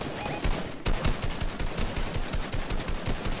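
Fortnite video game gunfire: dense, rapid bursts of automatic shots crackling continuously and loudly for several seconds, with overlapping reports and no pauses.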